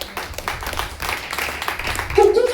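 A church congregation at a Sunday service clapping for Jesus, a dense stretch of hand claps mixed with voices, and a singing or shouting voice rising over it at the end.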